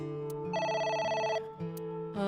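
Telephone ringing in the video game AI: The Somnium Files, a warbling electronic ring that trills steadily for about a second over a low musical backdrop, then cuts off.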